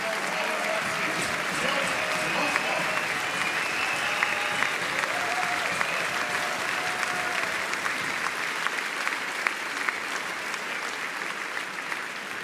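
An audience at a table tennis championship awards ceremony in Munich applauds steadily, a dense sustained clapping that fills the hall throughout, with a voice speaking faintly underneath.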